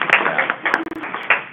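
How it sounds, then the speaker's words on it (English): A single person claps at a board meeting, a brief run of light claps heard over a band-limited, phone-like recording. "but I'll clap for you guys."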